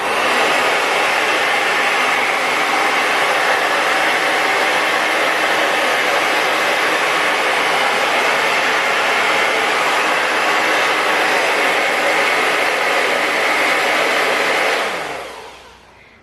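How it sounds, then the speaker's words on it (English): A hair dryer with a diffuser, drying curly hair, blows at a steady, loud, unbroken roar for about fifteen seconds, then winds down and cuts off near the end. "turn on the hair dryer and have it on continuously"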